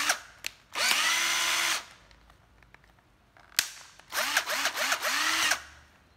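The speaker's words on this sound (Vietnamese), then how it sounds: "Chế độ khoan này, chế độ khoan này chạy luôn ha." A Hitachi 12V cordless drill runs in drill mode in two loud whirring bursts, with sharp clicks and knocks between them.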